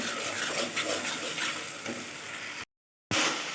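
Spice masala stir-fried in a pan, a steady close sizzle with scraping stirs, cutting out abruptly for a moment near the end before resuming.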